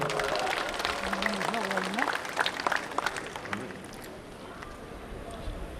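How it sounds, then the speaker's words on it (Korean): Crowd applause at an outdoor patriotic cultural festival marking the Korean War anniversary, a dense wash of clapping under a voice that speaks over it, then thinning as the talking continues. "박수 한번 쳐주십시오, 여러분."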